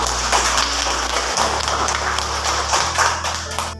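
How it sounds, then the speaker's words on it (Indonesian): A classroom of students claps for a classmate, a steady patter of close, dense hand claps over a low electrical hum that holds for a few seconds without talk. "Tepuk tangan untuk Nino."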